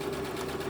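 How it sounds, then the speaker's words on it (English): A sewing machine stitches a seam joining side panels of a tunic, giving a brief, steady mechanical whir with a strong tonal hum and no voices. "I ran it through the sewing machine"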